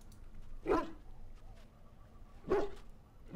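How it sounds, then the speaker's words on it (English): Two separate sharp dog barks in the video game Dragon Age: Origins, spaced apart, with quiet background between them and the start of a third at the end. "Bounces around, barking excitedly."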